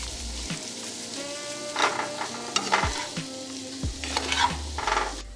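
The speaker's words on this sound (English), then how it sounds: "I'm gonna put one of these butter balls in here with some seasoning, kind of get them browned up before I add the veggies" Boiled potatoes browning in a pan with a ball of butter and seasoning, a steady close sizzle broken by clattering stirs and scrapes of a utensil against the pan.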